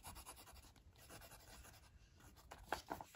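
A Midori MD fountain pen with a medium nib scratches softly across standard Midori paper in short strokes, faint and close, ending in a few sharper scrapes, with no talk.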